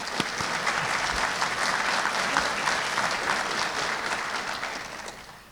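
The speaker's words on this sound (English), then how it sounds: "Yeah, we can clap." Steady applause from an audience at a law enforcement academy graduation fills the space, sustained for several seconds before tapering off slightly at the end.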